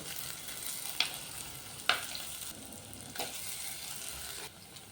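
Sliced shallots, ginger, garlic and green chillies sauté in a pan for a Kerala fish curry, a steady soft sizzle with a few sharp clinks of a spoon stirring, close and without talk.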